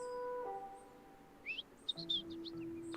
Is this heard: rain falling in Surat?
no